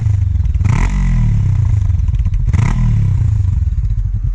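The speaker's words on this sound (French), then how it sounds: "le nouveau trail de chez Honda, la CB500X." A Honda CB500X trail motorcycle engine runs loud and close, a steady low throbbing drone with two brief revving rises and some mechanical clatter, no voices.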